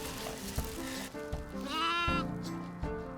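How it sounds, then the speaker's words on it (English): Sheep bleating at a lambing on a very windy day: several loud, wavering bleats close by, over a steady roar of wind noise, with no talking. "Look at the sheep, look at the sheep."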